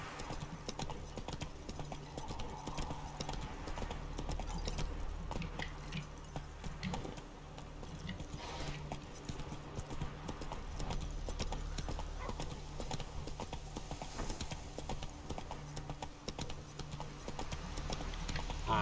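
Hooves of the horse Roach in The Witcher 3 clip-clop steadily and continuously, an even trotting rhythm under a faint ambient game background with occasional soft sounds.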